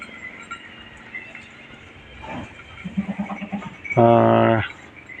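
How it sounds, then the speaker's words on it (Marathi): Goats eating fodder inside a pen let out a short bleat, then a louder, longer, quavering bleat close by over a quiet background. "आणि दिला आतमध्ये चारा टाकून खातात शेळ्या मजात"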